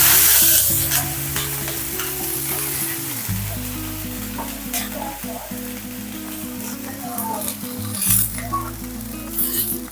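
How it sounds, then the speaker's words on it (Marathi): Sizzling hiss on a hot griddle where a sorghum batter crepe is cooking, fairly loud and close, with low hum and small clatters through it; no speech. "आणि पाण्याचा हप्ता मारा"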